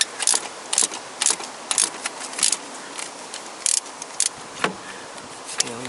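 Ratchet with a 12mm socket clicks in short bursts while loosening exhaust manifold bolts on a Toyota Corolla/Matrix VVT-i engine, with sharp metallic ratcheting spaced through the clip and no talk.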